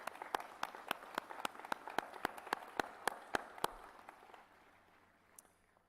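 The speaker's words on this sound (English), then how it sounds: "Students, please join me in a round of applause for your family who have made this incredible journey" A commencement audience at a college graduation ceremony bursts into applause, dense overlapping claps with sharp individual hand strikes, loud at first and then thinning and fading out as the clapping dies away.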